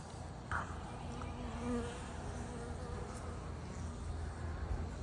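A freshly caught swarm of honey bees hums steadily and close, a dense, continuous buzz of many insects filling the whole stretch with no voices.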